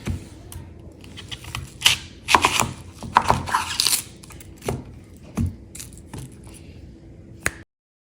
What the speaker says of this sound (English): Now we're going to chop half an onion.